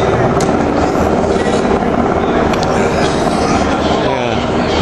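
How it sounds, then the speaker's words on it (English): A loud, continuous rumble of helicopters overhead, with a steady throbbing drone filling the whole clip and no voices. "What you hear in the background is the helicopters patrolling."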